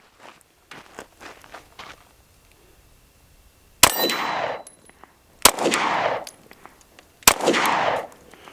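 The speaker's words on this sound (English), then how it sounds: "we're going to pop off a couple rounds one-handed up close so you guys can see and see what you guys think" Springfield XD Mod 3 pistol fired one-handed at close range, three loud sharp shots spaced over a few seconds, each followed by a ringing echo, after quieter clicks and handling noises.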